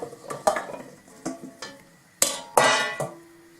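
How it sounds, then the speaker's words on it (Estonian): Chopped rutabaga pieces tipped into a cooking pot set on the stove, a few clattering knocks and scrapes against the pot in irregular bursts, close and fairly loud. "Siia ma kallan sisse need kaalikad."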